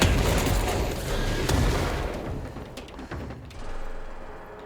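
A powerful new weapon fires in the Control video game, a dense rolling barrage of blasts and booms that fills the first seconds loudly and then thins into scattered impacts and rumble.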